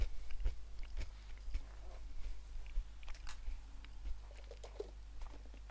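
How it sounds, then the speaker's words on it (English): Peanuts get crunched and chewed right beside the microphone, giving a run of quiet, uneven bites and crackles over a low steady hum. "chomp on some peanuts during this recording"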